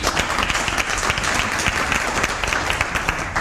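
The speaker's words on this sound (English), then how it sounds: "Shall we applaud that?" An audience at a launch of the South African chapter of the African Women Leaders Network claps in a sustained, even burst, many hands close and loud.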